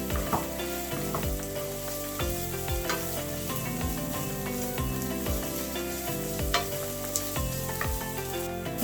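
Carrots and fish filling for spring rolls sauté over medium flame, sizzling loudly and continuously while a utensil scrapes and stirs the pan in a repeated rhythm, with no voices.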